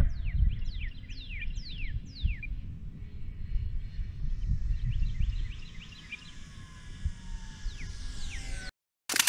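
A radio-controlled E-Flite P-51D Mustang model airplane comes in to land, its electric motor whining faintly at a distance over low rumbling background noise, with a few brief chirps, before cutting off abruptly.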